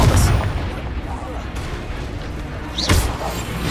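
Expelliarmus disarming spell effects in the Hogwarts Legacy video game: two sharp, booming blasts, one at the start and another near the end, over a steady rumbling in-game backdrop.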